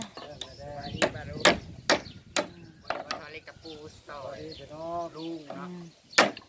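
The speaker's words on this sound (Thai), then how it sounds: "ถอนตะปูออกจากไม้" Nails are pried out of old wooden boards with repeated sharp knocks, cracks and creaks at an irregular pace, while a person talks between the impacts.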